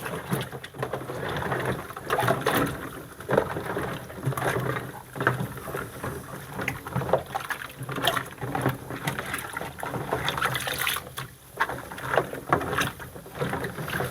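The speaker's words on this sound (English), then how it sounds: "You're going to want to make sure everything goes under the water well." Gardening pots and trays are pushed under water, giving soft, irregular sloshes and splashes close by as they are submerged and moved around.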